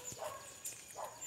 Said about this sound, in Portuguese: Ela, quando desce, os cachorros latem.